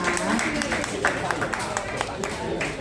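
Guests clap at a 15th birthday party in a shop, a short burst of fairly close, uneven applause mixed with background talking.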